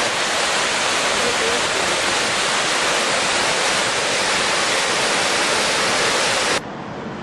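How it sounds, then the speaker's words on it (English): Waterfall in Switzerland roars close and steady, a thick continuous rush of water that drops off abruptly near the end. "we made it to the waterfall"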